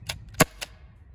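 A Byrna HD non-lethal launcher firing kinetic rounds: three quick, sharp pneumatic cracks in close succession, the middle one loudest, heard up close with no talking.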